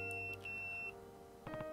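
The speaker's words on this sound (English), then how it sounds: "Oh, it is pocket bell." Electronic pocket bell pager beeping in the video game Yakuza 0, a few thin high-pitched bleeps followed by a short burst of tonal chirps, clear and close against a quiet background hum.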